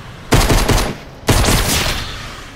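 A big gun fires in the video game Fortnite: two loud bursts of rapid automatic gunfire, each blast followed by a ringing tail, close and dominant with no talking.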